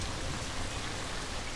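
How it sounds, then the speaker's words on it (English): Rain pattering steadily onto sun-scorched grassland in the Serengeti during the dry season, a soft, even hiss of drops with no voices, moderately faint and continuous throughout. "raindrops are falling on the scorched grass"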